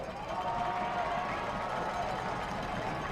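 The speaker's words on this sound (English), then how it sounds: "Crowd imploring this defense to get the stop." A football stadium crowd roars steadily on a 3rd-and-short play, urging the defense to make a stop; the noise is a loud, sustained wash of cheering that holds level throughout.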